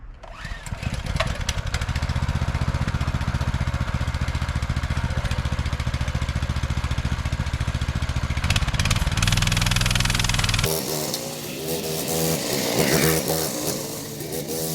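A mini bike's small engine starts with a rough crank, then runs at a loud, steady idle close by. About two thirds of the way through, the note drops and changes as the idle settles, with no talking.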